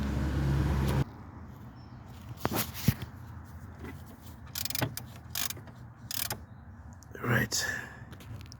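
Ratchet wrench with a 19mm deep socket turning a fuel temperature sensor on a Mercedes-Benz W204, heard as several short bursts of clicking ratchet strokes close by, with faint handling noise between them.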